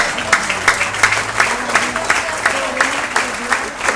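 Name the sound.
congregation applause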